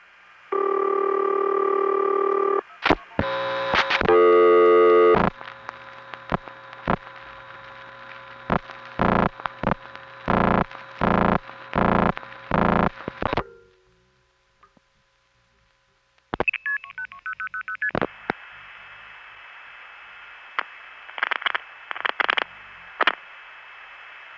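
A 1970s long-distance telephone call routed through an NX1 exchange plays out as a sustained tone, then bursts of rapid signaling tones and clicks. A brief silence follows before a steady high ringback tone with intermittent pulses.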